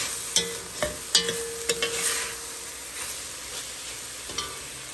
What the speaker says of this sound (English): Now that the meat and the onions have browned and it's been seasoned